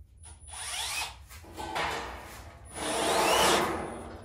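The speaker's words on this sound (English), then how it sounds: "Now we gotta go back to the drill." A power drill with a drill shears attachment cuts thick material in several grinding, whirring bursts of varying length, close and loud, with no talking.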